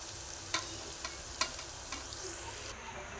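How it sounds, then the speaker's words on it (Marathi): Mutton being stirred into sizzling masala that has been fried in oil until the oil separates, for kharda mutton biryani: a steady close frying hiss broken by a few sharp spoon scrapes and clanks against the pan. "आता त्यात मटण मिक्स करायचं आहे।"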